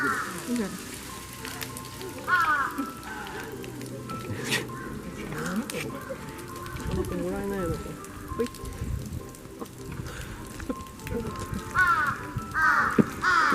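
A few crows caw at a bear park in Noboribetsu, Japan, once early on and then in a cluster near the end, over a soft pattering, rustling background.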